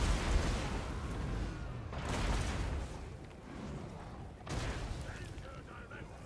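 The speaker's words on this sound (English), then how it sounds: "Let's see if the cannon actually gets a good hit" Dwarf cannons fire in a Total War: Warhammer battle against a Chaos army, heavy booms bursting roughly every two seconds over a dense, rumbling battle din, with a player's commentary underneath.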